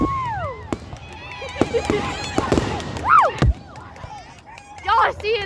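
Fireworks at a show after a Cougars game go off in sharp bangs and crackles, some booming, with excited voices of nearby spectators talking and exclaiming over them.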